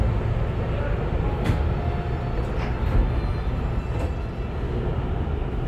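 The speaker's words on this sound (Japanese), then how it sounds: "いろいろ撮影してたら列車は出発していた" A Tobu Tojo Line 5090 series train, a car once cleaned for TJ Liner service, departs with a steady close rumble of wheels and running gear, plus a few brief higher squeals over the constant noise.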